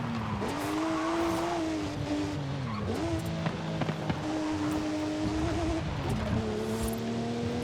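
A racing car in the video game Forza Horizon, its engine rising and falling through gear changes as it accelerates out of corners, with a brief tyre squeal, loud and close throughout.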